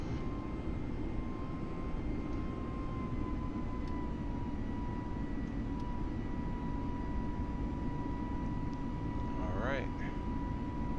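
An airliner taking off in Microsoft Flight Simulator 2020 gives a steady, moderately loud engine drone with a faint high whine, and someone speaks quietly over it.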